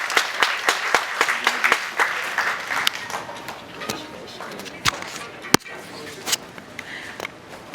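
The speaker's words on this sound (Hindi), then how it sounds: "आप सभी लोग जोरदार तालियां बजाएं।" Applause from the audience at a laptop distribution ceremony, a rough crowd of claps that starts fairly strong and thins to scattered, uneven claps toward the end, heard close in a hall.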